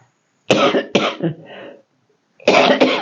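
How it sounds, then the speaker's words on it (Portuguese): Two bursts of harsh coughing, each a few rapid hacks, separated by a short silence; close and loud, with no talking. "Desculpa, gente, a tosse está assim, custando ir embora"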